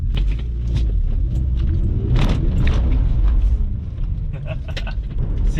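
A BMW E46 rear-wheel-drive car on a road drive gives off a steady low engine drone and induction rumble, close and constant, with small clicks and rattles from the cabin.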